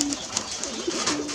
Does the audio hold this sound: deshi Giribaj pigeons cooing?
yes